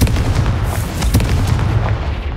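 Repeated booming blasts from the Confringo fire spell in the video game Hogwarts Legacy, dense heavy explosive impacts rolling one into another, loud and continuous, with no talking.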